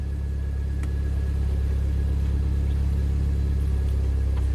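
Saab car engine running steadily with the left rear wheel spinning, a constant low rumble and drone that stays even throughout, close by and with no voices.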